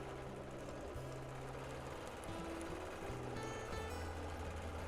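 A sewing machine slowly stitches straight lines across a quilt, its motor giving a low mechanical hum that starts, stops and shifts pitch in uneven bursts, close and moderately quiet, with no voices.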